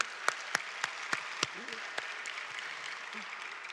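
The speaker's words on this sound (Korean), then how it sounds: "우리가 그리하실 주님께 믿음으로 다시 한번 박수하죠." Church congregation at a Sunday evening worship service claps together in a firm, evenly spaced rhythm, with six or seven sharp claps ringing out before the clapping loosens and a voice begins talking.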